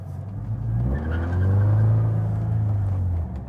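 A Subaru BRZ or Scion FR-S with its rear interior gutted makes an acceleration pull. A loud, booming engine note rises and holds close inside the cabin before easing off, with no talking.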